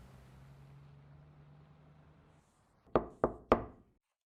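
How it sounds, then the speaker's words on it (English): Three sharp knocks rap on a bedroom door in quick succession, close and distinct, following a quiet stretch with a faint low hum. "There was a knock at Bobbi's bedroom door."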